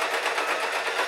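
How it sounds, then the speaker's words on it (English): A sewing machine runs steadily while stitching through a thick seam on a fabric bag hat, giving a close, continuous strained whirring hum with a fast pulsing rhythm. "The machine's just complaining as I'm going through the seam."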